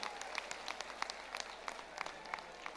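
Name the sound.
crowd applause at a religious gathering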